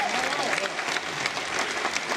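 Audience applause at a congress in Capilla del Monte, Argentina: a full, steady roar of clapping from a large hall crowd, continuous and even throughout, with some voices faintly mixed in.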